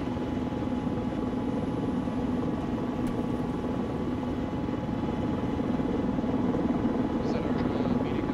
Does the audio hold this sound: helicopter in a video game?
yes